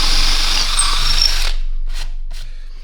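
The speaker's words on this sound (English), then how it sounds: "So what we'll do now is we'll drill a hole in the middle" A power drill bores a hole through the middle of a wooden piece, a loud close whine for about a second and a half, then stops, followed by two brief bursts of spin.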